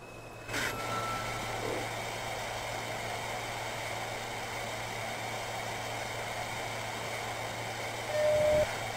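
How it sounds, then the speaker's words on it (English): A simulated Manhattan-bound NYC subway C local train in Trainz Simulator 2012 sits at Shepherd Avenue, giving a steady low electric hum with a sharp click and tone near the start and a brief rising tone near the end. "This is a Manhattan-bound C local train."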